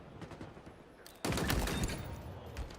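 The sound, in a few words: Commando rifle gunfire in Halo Infinite video game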